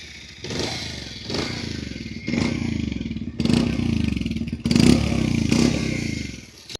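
A 2026 Bajaj Pulsar 150 motorcycle engine, fuel injected, idles with a hard-edged, throbbing note close by, then is blipped in a few short revs that rise and fall before settling back to idle.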